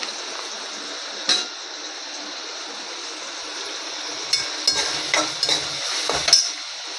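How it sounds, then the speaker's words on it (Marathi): Curry leaves hitting hot oil for spinach and chickpea curry crackle and sizzle steadily, with occasional clinks and scrapes of a spoon stirring in the pan, close and fairly loud with no voices. "त्याच्यामध्ये आपण कढीपत्ता टाकणार आहोत."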